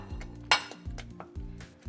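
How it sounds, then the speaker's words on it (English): Parmigiano Reggiano is stirred into saffron risotto Milanese in a pan: a few sharp metallic clinks and scrapes of a utensil against the pan, close by, over quiet background music, with no talking. "And then add the Parmigiano Reggiano and stir."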